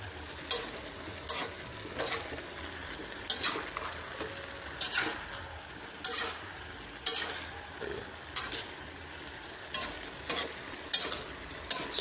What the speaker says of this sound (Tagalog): Haluin natin itong ating gulay.